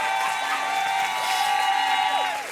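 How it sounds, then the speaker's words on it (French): Church audience cheering and applauding, with whoops and raised voices over clapping and a sustained tonal hum underneath, lively crowd noise filling the whole moment. "J'aimerais qu'on puisse l'applaudir"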